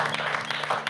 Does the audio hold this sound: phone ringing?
no